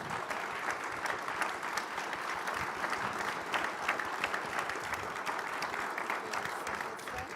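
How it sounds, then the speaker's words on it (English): An audience at a regional Hispanic leadership summit applauds its panelists, a dense, steady clapping from a large crowd that holds at an even level for the whole stretch without fading. "give a round of applause to our panelists here"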